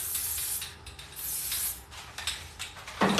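Teflon non-stick lubricant sprayed from an aerosol can onto a battery-powered mini chainsaw in a garage, a few close hissing bursts with brief gaps and a sharper spurt at the end.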